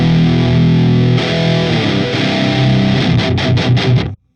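Heavily distorted electric guitar played through a metal amp, thick sustained chords giving way to a run of choppy palm-muted chugs, loud and close, then cut off abruptly.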